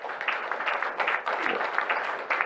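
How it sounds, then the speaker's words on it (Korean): Audience applause at a regional government debate forum, a dense, steady wash of many hands clapping from a crowd, sustained and moderately loud throughout. "이런 박수 한번 부탁드리겠습니다."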